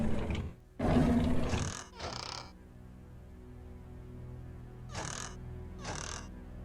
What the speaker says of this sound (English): it sounds like a lion roaring when the drawer is open